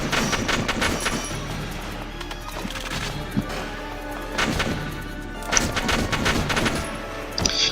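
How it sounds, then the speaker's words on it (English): In the Valkyria Chronicles battle against an enemy machine gunner, gunfire cracks in scattered sharp bursts, some clustered in quick volleys, over a steady low background rumble. "Shoot at him."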